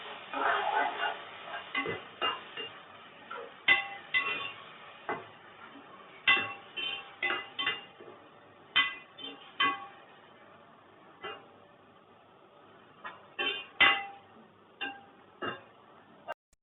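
Yogurt marinade mixed by hand in a bowl for quail biryani, giving repeated soft clinks and scrapes of a spoon against the bowl in irregular bursts, close up and moderately loud with no talking.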